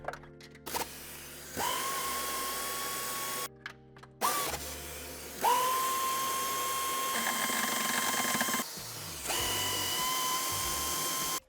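A power tool removes nuts from the bumper of a Mercedes-Benz E-Class W213 sedan, whirring in several separate bursts of a few seconds each, with short pauses between them.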